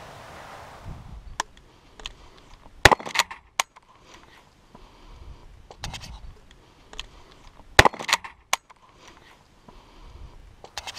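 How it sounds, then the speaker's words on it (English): Remington 870 pump-action shotgun at an outdoor range, with several sharp, loud shots spaced apart and clacking slide and mechanism noises between them as the pump is worked short, leaving a malfunction. "you're going to see me accidentally, I didn't set this up, accidentally short stroke this Remington 870."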